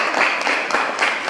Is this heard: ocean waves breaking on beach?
no